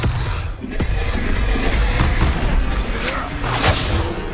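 An Incendio fire spell in the Hogwarts Legacy video game bursts with loud booming blasts, thuds and whooshing flames during a fight, dense and continuous.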